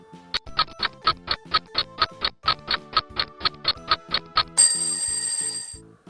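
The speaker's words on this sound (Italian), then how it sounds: "Belle la campane di Manu!" A bell rings in a quick, even series of about twenty bright strikes, then gives way to a shimmering chime that fades out.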